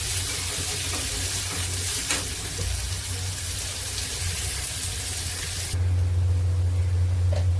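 Onion sizzling in plenty of hot oil for a Maharashtrian bitter gourd curry, a steady, close, continuous frying hiss with occasional stirring, growing slightly louder toward the end.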